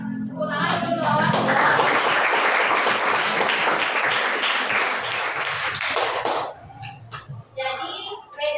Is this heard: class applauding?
yes